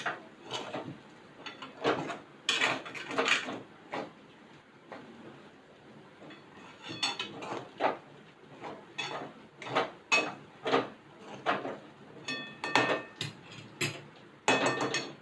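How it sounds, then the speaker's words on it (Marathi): Poha with green peas is stir-fried in a pan, a spatula clacking and scraping against the metal in irregular bursts, close but fairly quiet, with no voices. "आता पोहे आपण चांगले परतून घेऊया एक मिनिट चांगले परतून घेऊया म्हणजे खाली चिकटणार नाही ते"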